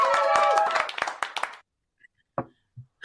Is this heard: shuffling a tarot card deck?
no